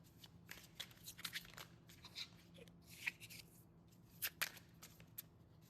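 Tarot cards are shuffled and drawn close by, giving soft, fairly quiet riffling with scattered crisp card flicks and snaps over a low background hum.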